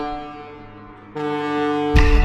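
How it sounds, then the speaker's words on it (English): Foghorn in the horror game Perception, heard as a sustained tonal drone that swells abruptly partway through and then rises again into a louder, rougher blast near the end. "I better find my way to that foghorn stat"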